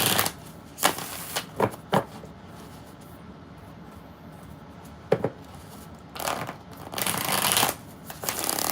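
Playing cards are riffle-shuffled in several quick rustling bursts close by, separated by stretches of quiet room tone.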